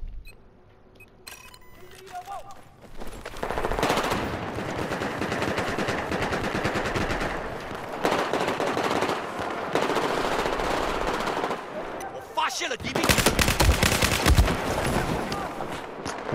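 An AR-160 rifle fires in Battlefield 4 multiplayer, with long dense bursts of loud automatic shots over several seconds broken by brief gaps and mechanical clicks.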